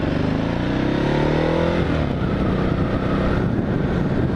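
A motorcycle rides along a road, its engine a loud steady drone with a rising rev in the first two seconds, then settling into a rough, constant rumble mixed with wind noise.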